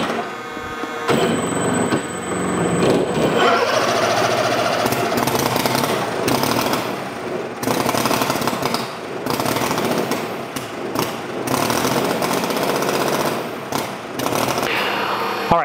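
A KOLM 230cc gas engine runs on a CARF Strega Reno racer RC plane, roaring loud and close with a harsh, rattling drone that rises in pitch early on and then holds steady with small fluctuations.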